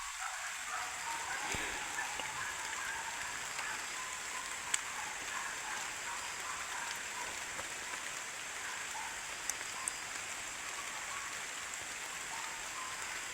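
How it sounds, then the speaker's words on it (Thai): Steady rain falls outdoors, a dense even hiss of drops with a few louder individual drips, continuous and fairly close throughout. "ฝนก็ ตกมาเลย"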